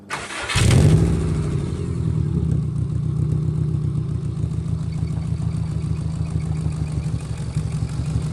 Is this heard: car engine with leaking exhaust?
yes